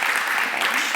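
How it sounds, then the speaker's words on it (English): A festival panel audience applauds the three speakers in a hall, a brief burst of steady dense clapping at fairly close range. "So let's give the three speakers a round of applause"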